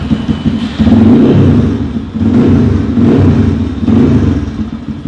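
A new motorcycle's engine is revved in close-up, rising and falling in three or four loud, throaty bursts over a steady idle, with no talking.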